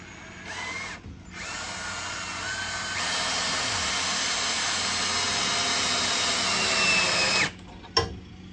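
A power drill drives screws during a below-grade bathroom build, its motor whirring loudly and steadily for several seconds with a slight pitch rise, then stopping, followed by a short final burst.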